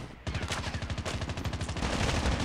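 Rapid automatic gunfire in the Call of Duty Mobile video game, a fast, even burst of shots that keeps going for over two seconds. The shots are close and loud, with no talk over them.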